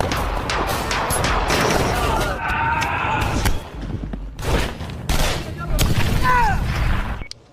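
A gunfight in an action film brings loud, rapid gunshot bursts and crashing impacts close up, with shouting voices mixed in.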